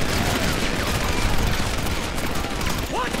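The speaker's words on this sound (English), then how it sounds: "they started shooting at me" Guards firing at the player in GTA 5, a loud continuous rattle of gunfire with overlapping shots and no breaks, while a person talks over it.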